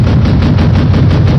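Gunfire in a team shooter video game booms in rapid, continuous bursts, loud and close, with a heavy low-end rumble.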